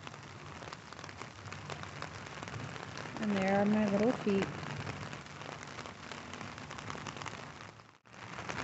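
Steady rain patters on an umbrella during an outdoor walk over wet grass among leaves, a constant soft hiss with a brief spoken remark in the middle.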